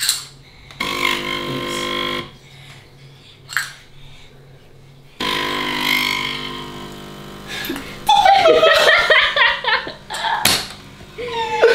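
A home coffee machine runs while brewing coffee after a clogged fault was cleared. Its buzzing, whirring bursts come on and off, each lasting a few seconds, over a low hum, with some clatter and faint voices in the room.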